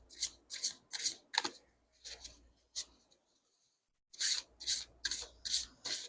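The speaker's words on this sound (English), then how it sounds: "These cards shuffle beautifully" A deck of tarot cards is shuffled by hand in quick bursts of crisp riffling and rubbing, a run of strokes, a brief pause, then another run, close and fairly quiet with no talking.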